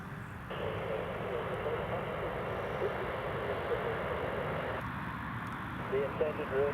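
A Ryanair Boeing 737-800 from Dublin on final approach gives a steady, broad jet roar that holds evenly throughout, with faint voices underneath.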